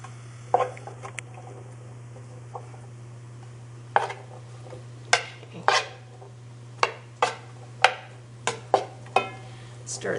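A utensil stirs food in a pan on a home kitchen stove, producing a series of sharp clinks and scrapes against metal that are irregularly spaced. A steady low hum runs underneath, and there is faint talking in the background.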